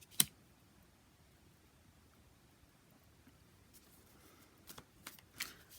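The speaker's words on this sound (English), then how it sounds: "I'm going to pull one more card to see about this." A tarot card is drawn from the deck, giving a sharp papery snap at the start followed by a few quieter card rustles and flicks near the end in an otherwise quiet room.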